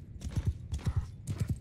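Horse hoofbeats from the video game Mount & Blade II Bannerlord during a battle, a quick galloping clip-clop in three clustered bursts of thudding steps, fairly close and clear with no talk over them.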